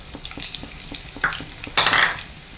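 Crushed garlic and curry leaves dropped into hot oil for a Kerala-style choora fry, a quick burst of loud sizzling after faint pan clinks and scraping.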